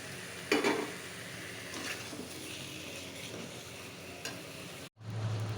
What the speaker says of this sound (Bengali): তারপরে এই চিকেনটাকে দিয়ে কষাচ্ছি।